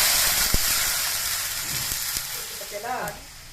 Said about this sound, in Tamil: இப்போ வந்து இந்த மோரையும் விட்டுடுறோம்